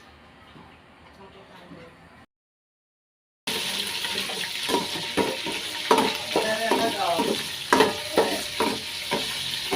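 Bopis cooking in a pan, steady frying sizzle with repeated stirring scrapes and clinks, close and loud after a brief silence, following quieter background sound at the start; people talk nearby.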